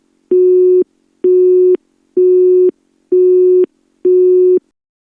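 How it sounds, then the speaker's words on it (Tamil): Telephone busy signal while calling a friend: five evenly spaced beeps of a steady, loud tone, each about half a second long with equal gaps between them, and no voices. "மச்சானுக்கு ஃபோன் அடிப்போம்."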